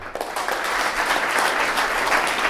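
A crowd of listeners applauds more loudly on a count of five, the clapping rising quickly into a thick, sustained wash of many hands that stays even to the end.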